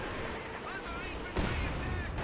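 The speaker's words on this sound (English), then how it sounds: "That's the Panzer targeting the mortars" A Panzer tank firing at mortar teams in a Company of Heroes 2 battle, a sharp cannon report cutting through a busy battlefield din, with voices and sweeping tones under it.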